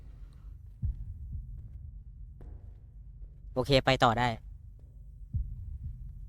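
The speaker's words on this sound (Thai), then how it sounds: "เหมือนเสียงหัวใจเต้นเลย" A heartbeat plays in the horror video game Deppart Prototype: paired low, muffled thumps that come once near the start and again near the end, with someone talking briefly in between.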